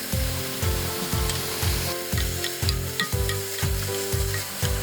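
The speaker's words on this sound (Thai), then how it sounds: "เมื่อผัดหมูไปได้สักพักหนึ่งก็ได้เวลาใส่น้ำตาลปี๊บนะครับ" Pork with fish sauce sizzles loudly in a pan as a spatula scrapes and tosses it with a regular stirring rhythm, heard up close.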